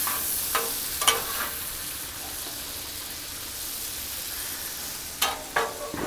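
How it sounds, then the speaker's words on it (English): Chopped onion sautéing on a Blackstone griddle, a continuous close sizzle broken by a few scraping, stirring clatters near the start and again toward the end. "I'm just gonna saute that all up in here"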